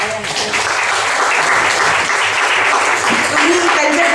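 Audience applause at an International Senior Citizens Day event during an awards introduction, a dense and steady clapping that holds at full strength for about four seconds.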